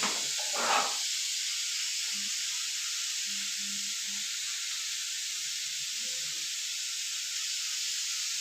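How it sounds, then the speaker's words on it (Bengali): Boiled chow mein noodles drained of their water, giving a steady, loud, broad hissing rush that runs evenly through the whole stretch with no talking. "জল ঝাড়িয়ে নেব।"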